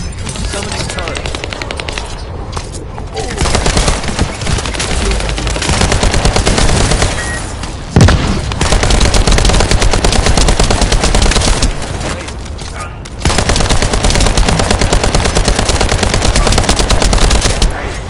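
Sustained turret machine-gun fire in The First Descendant, loud rapid bursts rattling almost nonstop for the whole stretch with brief pauses between volleys, and a voice speaking faintly under the shooting.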